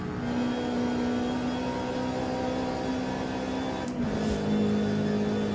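A Toyota GR86 engine in Forza Horizon 5 drones steadily at full throttle while the car powers out of a corner, with a brief shift or transient near the end and no talk over it.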